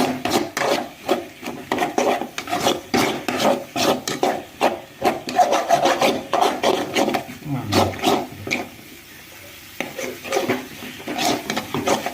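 Egg fry being stirred in a pan, with a continuous scraping and rubbing of a spatula against the pan in quick repeated strokes, close and steady, while a voice talks over it.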